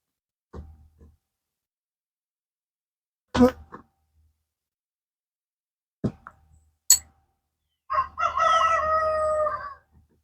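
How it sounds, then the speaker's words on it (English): A rooster crows a long cock-a-doodle-doo near the end, preceded by a few short clucks and sharp knocks with silence between. "Y'all probably hear my rooster in the back."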